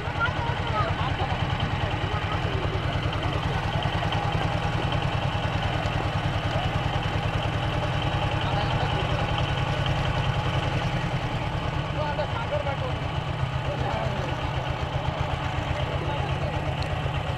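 A motor boat engine runs steadily on the Buri river at Kasba, a continuous low droning chug that stays even and fairly loud throughout, with faint voices of people beneath it.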